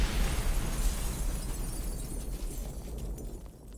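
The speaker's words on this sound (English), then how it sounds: "But kaboom!" Cartoon explosion sound effect from the Trivia Murder Party 2 party video game: a loud, rumbling blast that starts at full force and tails off slowly over a few seconds, with no talking.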